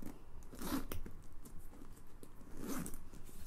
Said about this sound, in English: Let's go ahead and zip up the bag.